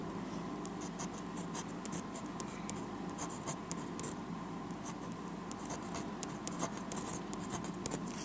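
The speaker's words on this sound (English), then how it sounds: "Pull out the pilot pen, sign the work." Continuous scratchy pen strokes of a Pilot pen signing a marker-and-pen drawing, a steady close scribbling texture with short repeated flicks over about eight seconds, quiet and alone.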